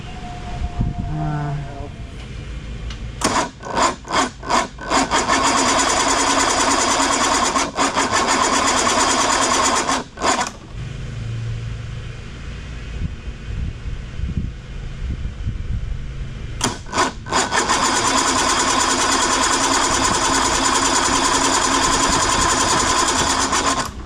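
A 1995 Evinrude 150hp GTX outboard on a Gambler bass boat cranking without starting: loud, sustained buzzing starter churn in long bursts, broken by short pauses and brief stop-start stutters, never catching.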